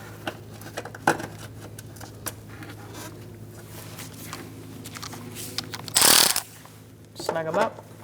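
A ratchet snugs up inner fender liner bolts on a 2004-2009 Mazda 3 2.3L, faint scattered clicks near the start, then a brief loud rasping burst and a short whirring ratchet run, with soft talk.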